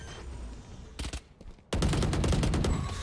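Rapid automatic gunfire from a Valorant match, a short burst near the one-second mark followed by a sustained, loud stream of rapid shots that fills the rest of the moment.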